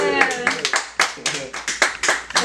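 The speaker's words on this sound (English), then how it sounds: "A round of applause for the cameraman." Small group clapping for the cameraman in irregular bursts of a few sharp claps, close by, mixed with cheering voices and chatter.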